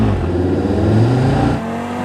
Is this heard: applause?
no